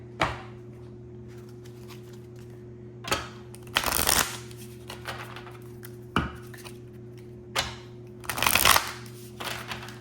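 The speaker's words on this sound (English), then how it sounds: "I'm going to go ahead and draw all the last cards and then we'll talk about them." Tarot cards riffle-shuffled and drawn at close range, with crisp bursts of card flutter repeating every couple of seconds over a steady low hum, and no talk.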